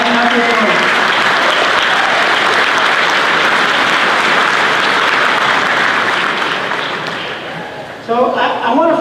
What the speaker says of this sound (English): give your ladies a round of applause